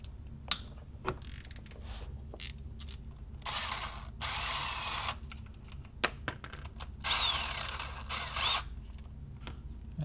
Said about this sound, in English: I'll go ahead and take those cap bolts off